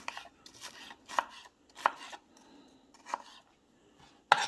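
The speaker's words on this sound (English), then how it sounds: "Slicing and dicing." Stainless steel kitchen knife from a new iMarkU set chopping food on a board, several sharp, separated cuts close up with quiet gaps between them.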